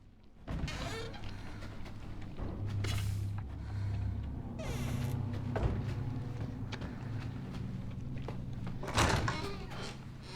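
Locked door in the Resident Evil 7 video game rattling and thudding without opening, a few dull knocks and clunks over a steady low game ambience.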